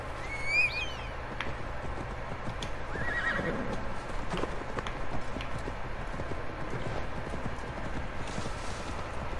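Horse in Assassin's Creed Valhalla galloping with continuous drumming hoofbeats, and a neigh near the start, close and steady throughout with no talk over it.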